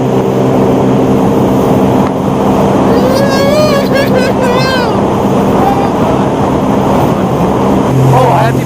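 A Sea-Doo Spark personal watercraft runs wide open on the water. Its engine gives a loud, constant drone with a steady pitch, mixed with heavy wind buffeting and spray noise close to the microphone.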